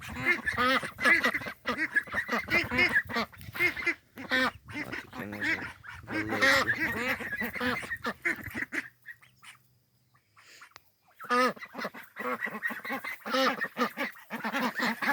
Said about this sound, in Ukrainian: Тут качечка, а то качурі.